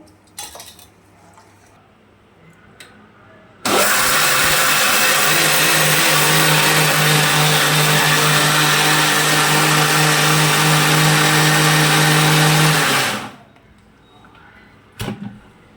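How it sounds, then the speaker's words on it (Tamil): A mixer grinder blends dal with dried red chili, salt and asafoetida, roaring to life as a loud, steady whir for about nine seconds before cutting off sharply into near silence. "இதில் வர மிளகா உப்பு பெருங்காயம் எல்லாம் போட்டு அரைச்சிடலாம்"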